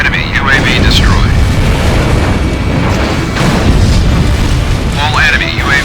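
An enemy UAV drone is blown up in Ace Combat Infinity: loud booming explosion rumble under continuous jet engine roar, with whooshing sweeps of aircraft passing and a voice faintly in the mix.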